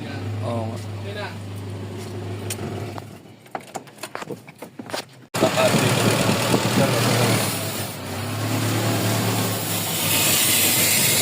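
Suzuki Vitara G16B engine idling unevenly with an idle problem, a low steady hum that drops away and cuts out midway, then returns louder with a rougher, noisier running sound.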